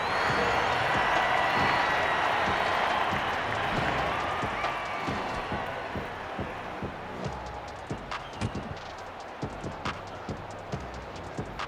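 Vocal crowd roar in Rugby League 26 during a women's Six Nations match, Ireland against Italy. Dense, loud cheering that gradually fades into sparse scattered claps and thuds toward the end.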